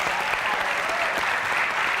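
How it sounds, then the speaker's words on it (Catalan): Loud, close applause from a television studio audience on a Catalan talk show, a thick unbroken roar of clapping hands filling the brief moment. "Un aplaudiment ben fort per la Susana Bas i la Sílvia Aranda"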